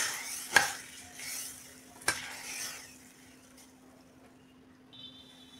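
A spoonful of tempering is tipped into a ridge gourd curry and stirred, with two sharp clinks of a spoon against the pan and a soft sizzle that fades to a quiet simmer; no one speaks.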